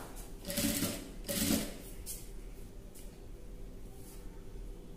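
Sewing machine stitching a neck design on a ladies' dress, running in two short bursts of rapid needle clatter and then quieter intermittent whirs, close by with no speech.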